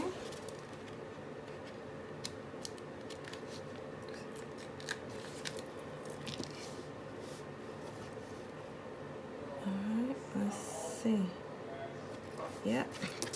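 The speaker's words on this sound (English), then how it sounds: "Let's cut her off the page." Scissors snip a picture out of a planner page, leaving small paper scraps, with faint steady snips through a low room hum and a few louder crisp cuts near the end.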